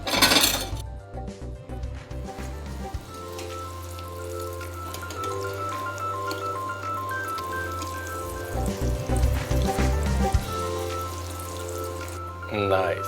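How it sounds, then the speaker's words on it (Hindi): Millet koftas frying in hot oil: a steady crackling sizzle with light clinks of utensils throughout, and a louder clatter at the start and end. A voice speaks over the frying. "चलिए अब इसको कर लेते हैं फ्राई।"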